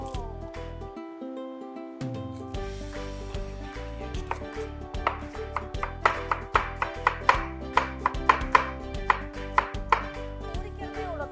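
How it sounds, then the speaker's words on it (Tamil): A knife slices onion into julienne strips on a board, a rapid, regular run of crisp chops that grows quicker and louder, with background music playing throughout. "ஆனியன் ஜூலியன் கட் பண்ணுவோம்"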